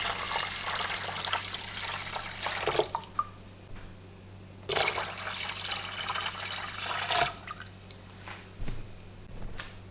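Water gushes and splashes into a cooking pot in several bursts, loud and close, with quieter trickling and dripping between the pours.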